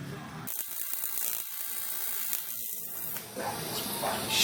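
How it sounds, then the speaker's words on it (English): Someone welds a catch can, producing a steady close crackling hiss that starts abruptly and runs throughout, with a brief shift in texture near the end. "let's get the welder out"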